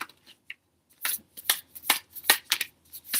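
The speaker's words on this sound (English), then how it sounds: "So I'm just gonna shuffle." A new deck of playing cards being shuffled by hand, with a series of crisp riffling bursts following a couple of faint taps, close and fairly loud, with no voice.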